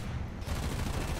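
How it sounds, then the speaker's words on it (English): Aircraft cannons fire in a dense, continuous burst during a flight combat game. The fire is loud and roaring, with no voices over it. "Let's get some cannons into the rear."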